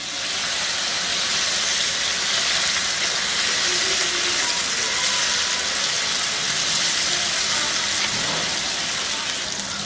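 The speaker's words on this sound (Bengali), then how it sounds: "আমি হাই হিটেই ভাজতেছি" Okra coated in gram flour fries in oil over high heat, giving a loud, continuous hissing sizzle that holds steady throughout, like heavy rain, with no voices.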